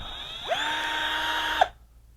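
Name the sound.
Total 12V cordless drill spinning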